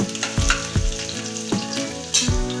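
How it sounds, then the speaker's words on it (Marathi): Hot oil sizzles loudly and steadily as garlic fries in it, punctuated by rhythmic knocks of a utensil against the pan. "तेल आपलं तापलंय आपण त्याच्यात लसूण घालूया"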